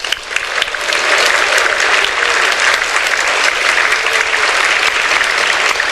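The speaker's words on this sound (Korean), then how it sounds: "우리 총장님 오셨는데 함성과 박수로 좀 환영해 주시기 바랍니다" Dense, loud audience applause with cheering at a university lecture, welcoming the university president; steady, continuous clapping from a large crowd throughout.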